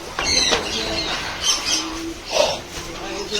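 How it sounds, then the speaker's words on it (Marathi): Pigeons at a water park near Shirdi give a few short coos amid ambient noise and light wing sounds, brief and moderately close. "कबुतरांचा आवाज येतोय"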